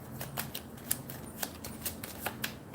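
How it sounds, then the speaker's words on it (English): Rapid, soft papery flicks and riffles of a small tarot deck being shuffled, a steady run of light taps close by with no talking. "It's hard to shuffle this little deck."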